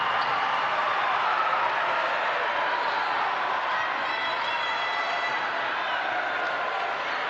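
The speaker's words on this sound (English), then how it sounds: "Listen to this crowd." A steady, loud roar from the crowd at a Tusculum vs Clayton State women's basketball game, a continuous wash of cheering with no clear breaks.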